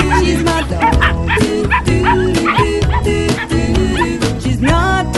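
Nine-week-old puppies yip and bark close by in rapid, overlapping bursts with some whimpering, while a voice continues in the background.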